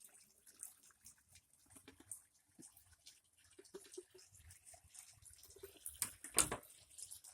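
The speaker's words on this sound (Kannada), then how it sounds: "ಇಲ್ಲಿ ನೋಡಿ ಇಲ್ಲಿ ಅರ್ಕ ಬೀಳ್ತಾ ಇದೆ. ಹೀಗೆ ಹನಿ ಹನಿಯಾಗಿ ಅರ್ಕ" Cow urine distillate (go arka) drips drop by drop into a pot, giving faint, sparse, irregular plinks over a quiet background, with a slightly louder splash near the end.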